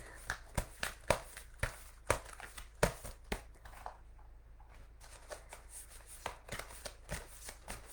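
Oracle cards being drawn and shuffled from a deck during a reading, giving a rhythmic series of sharp papery flicks and slaps up close, pausing briefly midway before resuming, with no one talking.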